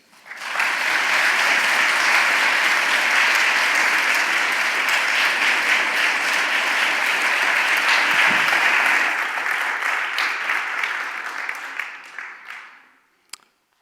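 An evening lecture audience applauds to welcome a speaker, dense sustained clapping from a large crowd, steady for about nine seconds before thinning out and fading to silence.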